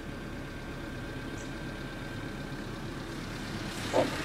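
A warmed-up Honda Civic idling smoothly, with a steady, low engine hum and no variation in pace throughout.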